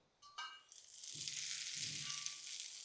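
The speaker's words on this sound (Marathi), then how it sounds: "आता ही फोडणी चटणीवर घालू" Hot tempering of mustard seeds, curry leaves and urad dal is poured over chutney, giving a sudden steady sizzle and crackle that builds and holds, close and fairly quiet, with no talk.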